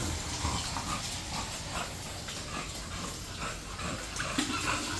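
Water runs and splashes steadily throughout while an American Bully dog is showered, a continuous hissing spray with faint movement underneath and no clear talk.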